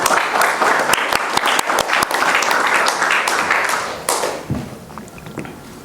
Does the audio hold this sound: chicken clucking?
no